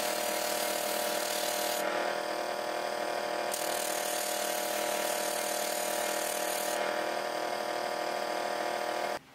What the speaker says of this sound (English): I sanded the flower down as short as I could make it